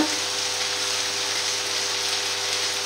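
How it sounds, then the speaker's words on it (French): Meat frying in a pan for a chicken blanquette with mushrooms, giving a steady, even sizzle that holds close and loud throughout with no talk over it. "Je vais remuer ma viande."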